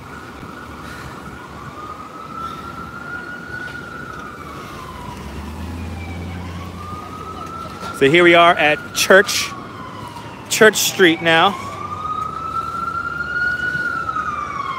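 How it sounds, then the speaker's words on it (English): An ambulance siren wails as the vehicle passes along Church Street near the World Trade Center in Manhattan, its sweeping tone rising and falling steadily, joined by sharp horn-like blasts midway, while someone talks over the street noise. "Here comes the ambulance."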